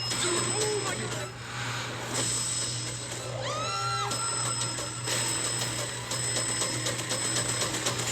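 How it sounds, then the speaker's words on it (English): A bell rings once briefly in an old school building, with a clear ringing tone that decays over about a second amid a steady hum and background noise. "Ring the bell."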